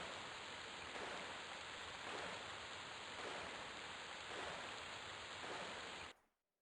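Rainfall in the EverQuest game Project 1999 makes a soft, constant hiss that runs for about six seconds and then cuts off abruptly into silence.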